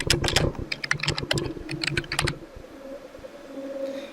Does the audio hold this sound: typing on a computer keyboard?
yes